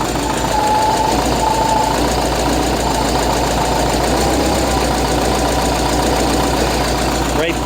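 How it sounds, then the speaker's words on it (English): An engine from a classic Volkswagen Beetle idles close up, a loud, continuous rumble with a fast, even ticking rhythm while it warms up. "when the engine warms up, it's going to be like at 1200 or 1100 RPMs"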